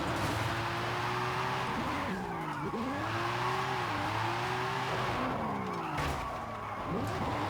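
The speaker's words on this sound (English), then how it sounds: "Those snow tires are so good for when you're trying to hold like long slides to your handbrake." A Ferrari on snow tires slides through long drifts in Forza Horizon, its engine whining and swooping in pitch as the tires squeal steadily, close and loud, with no talk.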